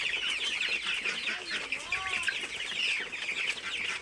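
Several 35-day-old Sonali chickens cluck and chatter continuously nearby, with a rising and falling call standing out midway.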